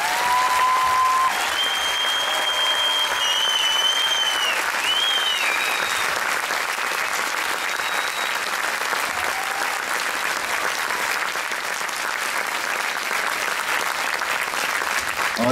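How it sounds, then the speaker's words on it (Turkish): Warm, sustained audience applause after a Circassian folk dance performance by a Jordanian troupe in Ankara, a dense even roar of many hands clapping continuously with some whistles near the start. "sıcak bir alkış istiyorum."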